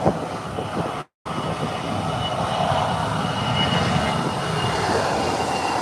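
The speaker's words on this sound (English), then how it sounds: "Up and away. Beautiful takeoff." An American Airlines airliner takes off at Howard Hamilton International Airport, its engines a loud, steady broadband roar that holds for several seconds after a momentary dropout near the start.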